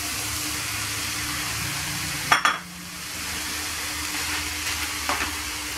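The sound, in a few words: stirring vegetables frying in a pot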